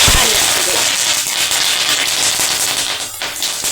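Curry leaves hitting hot oil while tempering moong dal fry on a dimmed gas flame: a loud, dense crackling burst that stays intense and close for several seconds before easing slightly.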